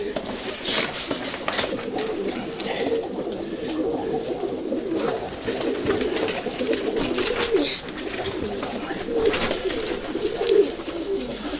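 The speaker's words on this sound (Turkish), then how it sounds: "Bakın kanat sesleri şamatalı." White Istanbul pigeons flutter and clap their wings in repeated sharp bursts, mixed with a steady backdrop of cooing from a nearby flock.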